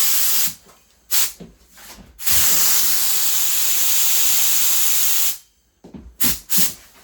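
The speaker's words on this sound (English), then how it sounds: "When you set your spray gun pressure, like for this around 25-ish PSI" A spray gun at about 25 PSI applying sealer primer to a goalie mask hisses in bursts: a few short sprays, one long steady blast lasting several seconds, then more brief sprays, close and loud.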